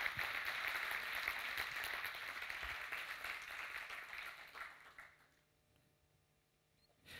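Faint applause from a conference room audience, a soft wash of clapping that gradually fades out toward the end.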